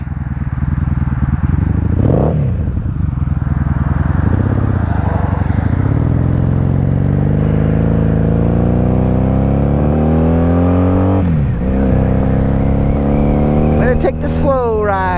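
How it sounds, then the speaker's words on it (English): Road traffic at night heard from a 1997 Honda Magna 750 VF750C motorcycle, a loud steady engine drone with rising and falling passing vehicles, including a close pass near the middle and another near the end. "Lots of traffic."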